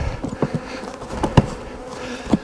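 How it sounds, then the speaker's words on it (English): Honey bees swarming around a hive in a barn, a close, steady droning buzz broken by a few soft knocks and thumps. "Barn bees. Good job,"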